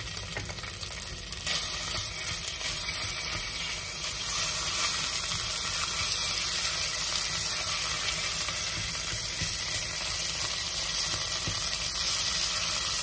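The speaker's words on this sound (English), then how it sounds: "We put now from the tomato paste and roast it also a little bit" Tomato paste roasting in a pan for ratatouille gives a steady, close sizzle and frying crackle that runs throughout without a break, with faint stirring and scraping underneath.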